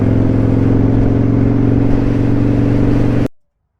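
Motorcycle engine running during a ride, a loud, steady, close-up drone with even mechanical tone that holds for about three seconds before cutting off abruptly into silence.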